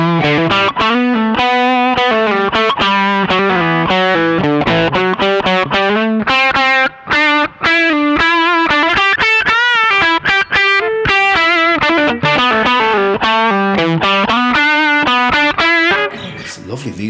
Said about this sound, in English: Feels a bit more like a distortion pedal than an overdrive pedal to me.